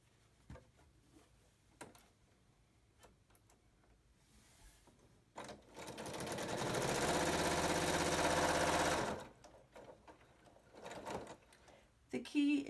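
A sewing machine stitches quilt squares together in a single sustained whirring run of about three seconds, with scattered soft handling clicks before and after and no talk.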